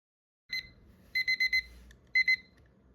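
A study timer alarm rings at the end of a session: a single beep, then a quick run of four beeps and a pair of beeps, bright and close in a quiet room.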